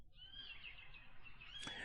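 Bird chirps and tweets in a house setting in a Windows video game, a steady layer of high calls running throughout with a brighter burst near the end.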